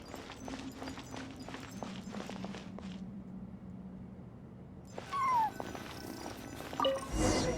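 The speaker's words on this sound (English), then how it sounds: "And so I followed the cat's cries to find my way out." Soft cat meows and cries from the video game Genshin Impact, several short calls over quiet footsteps, then a louder burst of game sounds toward the end.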